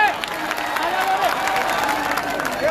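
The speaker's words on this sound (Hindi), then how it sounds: "वो दोनों के लिए जोरदार तालियां लगा।" A crowd at an outdoor political public meeting claps and cheers, a dense near steady roar of applause with shouts rising through it for a few seconds.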